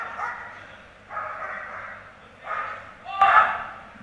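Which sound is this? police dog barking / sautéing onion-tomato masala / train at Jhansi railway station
police dog barking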